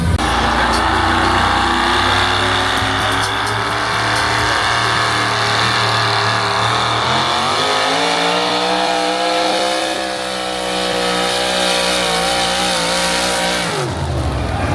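A loud, powerful engine with a reported fault roars continuously at an agricultural expo. Its pitch rises and shifts as it strains, then it abruptly cuts out near the end.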